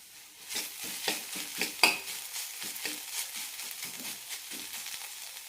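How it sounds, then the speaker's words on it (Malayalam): Sliced onions sauté in a pan until transparent, with close, repeated scraping and stirring strokes over a soft sizzle. "ട്രാൻസ്പാരൻ്റ് ആവുന്നവരെ വഴറ്റിയെടുക്കാം. സവാള നന്നായി വാടി കിട്ടണം."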